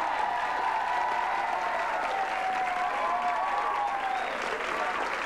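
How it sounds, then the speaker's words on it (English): Steady, dense applause from a crowd at a model show, holding at an even level throughout, with a faint tonal voice or music line running beneath the clapping. "everybody give them a round of applause"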